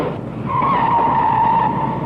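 A Fiat 124 stunt car skids with a loud, sustained tyre squeal over engine roar, the screech holding close and steady for about two seconds.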